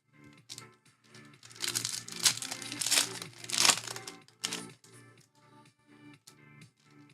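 A 2024 Bowman hobby baseball card pack is torn open with loud crinkling foil, bursts of crackling and ripping in the middle, then lighter rustles as the cards are handled, with no talking.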